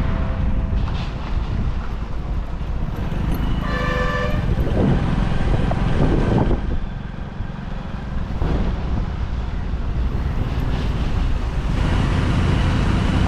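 Heavy Sunday-morning road traffic on the Lanja road at Dabhole in Konkan rumbles steadily past, with a loud tonal horn blast in the middle and a few shorter honks nearby.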